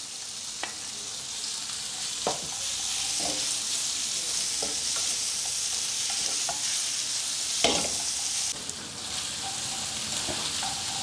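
Noodles stir-fry in a pan with lightly cooked carrots, giving a continuous hissing sizzle broken by several sharp scrapes and clinks of a spatula, close and fairly quiet, with no one speaking.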